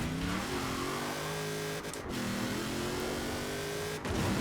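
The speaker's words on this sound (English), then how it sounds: "I'm not a big fan that it sounds like a V8" A V8 car engine in Forza Horizon 4 revs loudly and steadily, its pitch climbing and falling through gear changes with brief dips in between, heard alone without talk.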